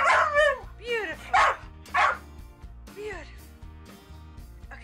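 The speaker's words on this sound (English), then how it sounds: "Bark for me." A female dog gives several sharp, loud barks on command at a photo shoot, spaced in short bursts close by, with a person's encouraging voice in between.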